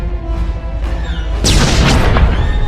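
Heavy booming explosions from turret fire striking an Imperial ship descending through the atmosphere of Belsavis in a Star Wars: The Old Republic trailer, a dense rumbling wall of blasts swelling louder over a cinematic score.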